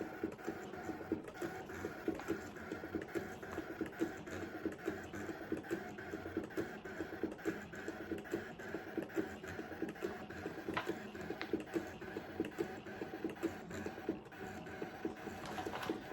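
A quiet Brother ScanNCut DX cutting machine whirs steadily as its blade cuts, with rapid mechanical clicks and ticks, a low continuous motor hum under light rhythmic tapping.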